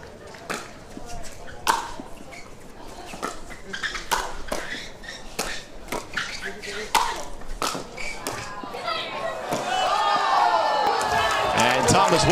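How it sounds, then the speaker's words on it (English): Spectators at a professional pickleball mixed doubles match at the Guaranteed Rate Vegas Championships react amid sharp, rhythmic paddle pops, and their cheering and applause swell into a louder, sustained roar over the final seconds. "Great defense from Yana, the crowd giving him some love"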